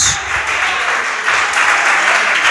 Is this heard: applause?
yes